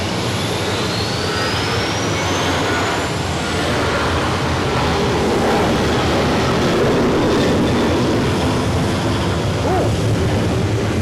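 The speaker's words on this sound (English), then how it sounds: "we're rolling with an air Europa" An Air Europa airliner rolling for takeoff at Zurich Airport, a loud continuous jet roar with broad rushing noise that builds steadily over the seconds, heard from outside at a distance.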